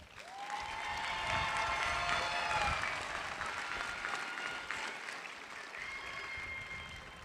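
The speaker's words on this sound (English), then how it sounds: "One more round of applause for our amazing Dragon graduates." Sustained applause from a large audience at the Orangewood High School graduation ceremony for the graduating class, a dense, steady wash of clapping lasting several seconds with a few voices mixed into the crowd.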